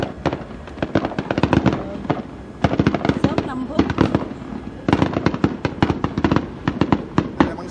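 Fireworks and firecrackers set off on Lunar New Year's Eve, crackling in long rapid bursts of sharp pops with brief pauses between volleys, loud and fairly near.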